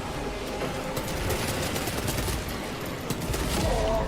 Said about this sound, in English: This guy's name is Sniper, yet he's only using his bolt pistol.